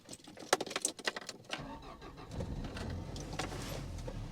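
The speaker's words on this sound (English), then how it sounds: "engine's quite rough and agricultural at tick over" Citroen CX Turbo 2 Prestige engine cranking and catching, with a few clicks and clunks first, then settling into a steady, rough, agricultural idle close by.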